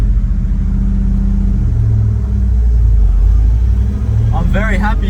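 A car engine idles steadily just after starting with the handbrake on, following a fuel problem: a loud, continuous low rumble that rises slightly midway, with a voice briefly near the end.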